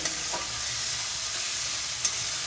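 Bombay duck fish with spices fries in a pan without water, sizzling in a steady hiss while a utensil stirs with occasional soft scrapes, heard close and without voices.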